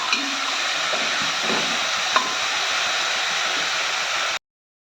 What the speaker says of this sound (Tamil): குறகுறப்பாக அரைச்ச வெங்காயம் பூடு அதையும் போட்டுக்கலாம் நல்லா வதக்கிக்கலாம்